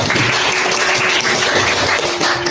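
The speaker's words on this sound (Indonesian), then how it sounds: "Beri tepuk tangan dulu." Students applauding in a classroom, a dense, loud, continuous patter of clapping at close range with a steady hum beneath it.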